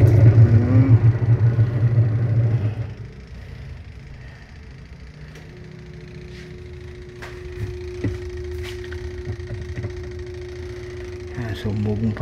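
A washing machine motor with a suspected fault hums under test, a loud low drone at first that drops to a quieter steady hum, with clicks and knocks scattered through and someone talking over it.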